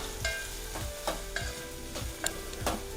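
Grated coconut frying in a little oil in a kadai for chutney, an even close sizzle punctuated by regular spatula scrapes roughly every half second, with no speech.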